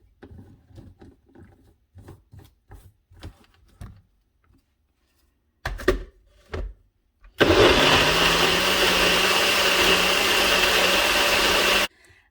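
A blender mixes a thick smoothie with added protein powder. A few light clinks and thuds of handling come first, then the motor roars loudly and steadily for about four and a half seconds before cutting off.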